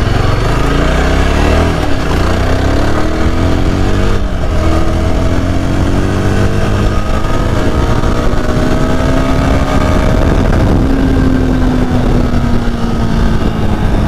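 A 2022 Yezdi Scrambler motorcycle on a test ride gives a loud, continuous engine drone that rises and shifts in pitch through gear changes, with heavy wind rumble throughout.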